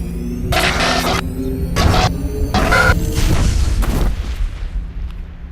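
An explosion goes off in the video game Mass Effect on Eden Prime. Loud rumbling blasts with bursts of crashing debris follow over a low hum, then fade into a trailing rumble.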